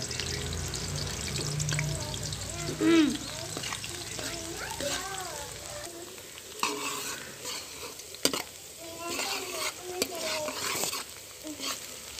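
Onions fry in hot ghee in a pan, sizzling steadily while a spoon scrapes and stirs in irregular strokes, with faint voices in the background.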